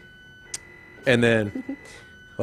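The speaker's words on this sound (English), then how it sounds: "we got an alarm going off here" A thin, steady electronic alarm tone sounds faintly in the background of a talk-show setting while a person briefly speaks over it.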